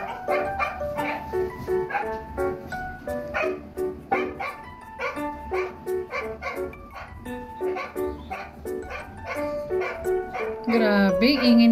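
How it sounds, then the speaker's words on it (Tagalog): A pet dog barks noisily at home in quick repeated yaps and yips, mixed with bright, tuneful background sound and loud throughout. "Grabe, ingay ng aso ko."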